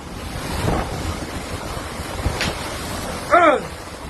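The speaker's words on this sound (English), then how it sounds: "Downpours with gusts of wind and hail hit the city of Cartago, Costa Rica and surrounding areas this Saturday" Storm wind gusts during a downpour with hail in Cartago, Costa Rica, roaring as a steady broadband rush that swells and eases, with a brief whistling tone near the end and no talk.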